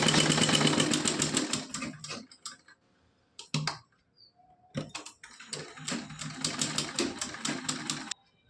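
A sewing machine stitches a small cotton dress for a Laddu Gopal idol. Fast, close mechanical stitching runs in bursts, breaks off for a few seconds of scattered clicks, then resumes at full speed.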